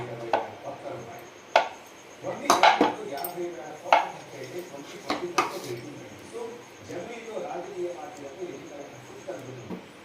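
A knife cuts food on a plate in a home kitchen, with sharp irregular clicks and scrapes against the dish and occasional clinks of cutlery, close by, under intermittent talking.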